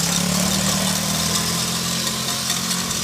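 An ATV quad engine runs steadily on a snowy ride, a loud, continuous low rumble with mild vibration and no talking over it.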